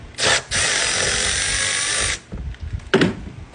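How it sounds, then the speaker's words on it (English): A ratchet works on the 8mm band clamp of the air box on a Dodge Grand Caravan, giving a short buzz and then a long, steady whirring run up close, followed by a few softer clicks and knocks. "Get your ratchet in there."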